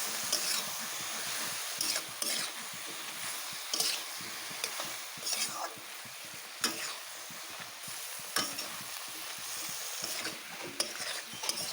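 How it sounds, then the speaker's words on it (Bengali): Boiled potatoes with chili and turmeric powder fry and sizzle in a pan under a continuous hiss, while a utensil stirs them with repeated scraping strokes close by. "এখন ভালোভাবে এটাকে আমি কষিয়ে নেব।"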